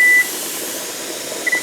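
Kitchen timer beeping during pressure canning of beans, a short steady electronic tone at the start and a brief faint repeat near the end, over a constant hiss of venting steam.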